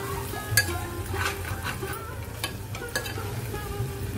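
Suran (yam) pieces are stirred in a pan for a fasting-style bhaji. The spoon scrapes and clinks against the pan in repeated close strokes over a faint sizzle.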